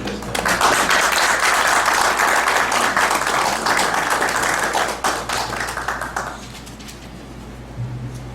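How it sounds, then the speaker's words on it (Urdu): Audience applause at an Urdu poetry mushaira fills the hall, a dense, loud burst of clapping that holds for several seconds and then thins and fades toward the end. "تالیوں کی گونج میں"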